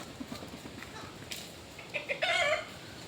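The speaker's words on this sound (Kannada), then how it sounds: "ಹೋ ಕೋಳಿ" A chicken clucks softly a few times, then gives a short, loud crowing call near the end over quiet background noise.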